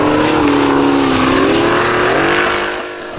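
A formula offroad car's engine drones loud and close as it climbs a hill at Stapafell in Iceland, its pitch sliding and wavering before the throttle eases and the roar drops away near the end.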